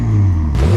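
A tuned, modified twin-turbo BMW 335i with rear-wheel drive and 430 hp revs loudly and up close, its steady low drone shifting pitch briefly before climbing again.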